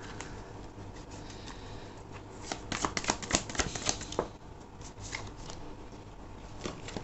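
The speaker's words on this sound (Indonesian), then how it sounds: "Aku akan ambil satu kartu lagi ya." Tarot cards shuffled and drawn from a deck during a reading, a steady papery riffle and slide with a cluster of sharper card snaps and flicks in the middle, close and alone without speech.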